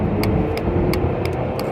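Car engine pulling hard at full throttle on a highway behind a slow truck, with a boot carrying extra weight: a steady, loud low drone and road roar with no letup.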